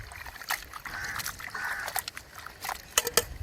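Water poured over cut meat while cooking curry at home, intermittent splashing and trickling with soft sloshes, close and fairly quiet.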